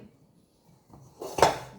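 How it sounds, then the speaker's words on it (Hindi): Dishes clatter and clink in a home kitchen as they are dried with a napkin, a brief burst of clattering after a quiet, faint lead-in. "उससे मैं तो बर्तन ड्राई करके आराम से फिर रखती हूँ।"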